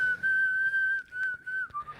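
A person whistles a single sustained, slightly wavering tone during a podcast recording, clear and close, broken by a few brief pauses before sliding down at the end.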